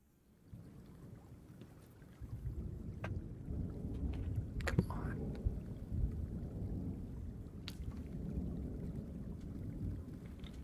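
A thunderstorm in a fishing video game: low rolling thunder rumbles over a steady wash of rain, with a sharper crack near the middle, all fairly distant and with no talk.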